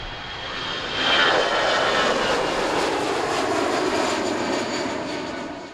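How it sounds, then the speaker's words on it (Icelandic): A jet takes off and swells into a loud, continuous roar after about a second, holding steady before tapering slightly toward the end, with a faint whine in the mix and no talking. "Þotan fór svo í loftið á 10."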